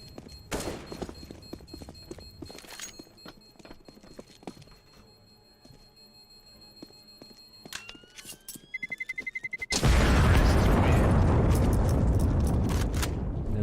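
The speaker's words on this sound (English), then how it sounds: "from that bomb explosion" A bomb blows up in a Counter-Strike: Global Offensive match at a university varsity playoff. After scattered clicks and beeps, a sudden loud, dense roar hits and keeps rumbling to the end.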